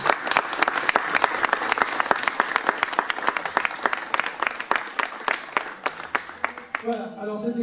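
An audience at a Jacques Brel exhibition applauds, a dense, lively burst of many hands clapping close and loud, sustained throughout before trailing off at the end.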